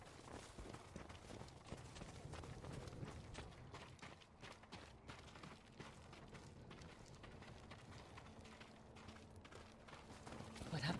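Rapid hoofbeats of galloping horses in Ghost of Tsushima, steady and dense throughout, mixed with background game sounds and rumble, swelling louder at the end.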